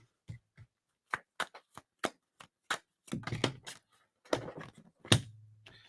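Tarot cards shuffled by hand in a series of short, crisp riffles and taps, irregular bursts that turn into a denser flurry midway, close and alone with no talking.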